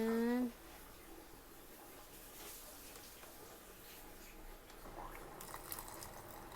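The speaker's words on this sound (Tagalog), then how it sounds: "lagyan na natin ng tubig" Water poured into a cooking pot, a steady trickling splash that runs for several seconds after a brief opening voice, moderately close and fairly quiet.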